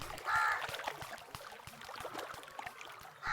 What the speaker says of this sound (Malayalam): അങ്ങനെ കര കണ്ടെത്താനായി നൂഹ് നബി ഒരു കാക്കയെ പറഞ്ഞുവിട്ടു